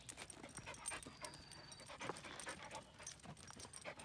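A dog outdoors on a rural off-grid homestead chasing a small rabbit, heard as steady, fairly loud panting with faint whimpers and brief squeals throughout, no talking.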